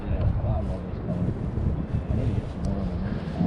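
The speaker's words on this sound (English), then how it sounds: "How about this wind?" Wind buffets the microphone on a kayak fishing trip on a cold April day in Delaware, a steady low rumbling roar throughout, with someone speaking over it.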